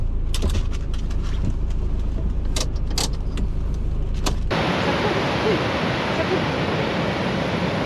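Rushing water from a waterfall in Norway gives a loud, dense, continuous roar. Scattered clicks and knocks come first, and then the roar fills the second half without a break.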